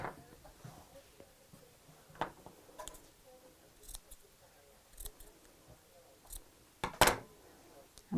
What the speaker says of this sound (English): I'm just going to snip into the sides like so and make a fringe